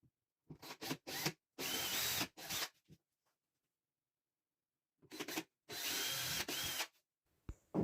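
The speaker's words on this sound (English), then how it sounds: "then I will pre-drill the holes" A power drill pre-drilling holes in a wall whirs in short bursts, stopping and starting several times, then runs in a longer burst after a pause; close and loud, no talking.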